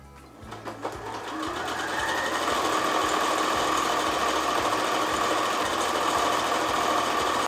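Sewing machine stitching quilted patchwork fabric strips along a quarter-inch seam, running steadily and close for several seconds after a brief start, a fast even mechanical whir with no talk.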